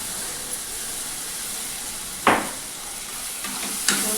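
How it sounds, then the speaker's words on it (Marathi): Steady sizzling of coconut roasting in a hot pan, broken by two short rattling bursts as soaked rice is tipped in and stirred. "खोबरं चांगलं परतून घेतल्यानंतर आपल्याला ते तांदूळ भिजून घालतो"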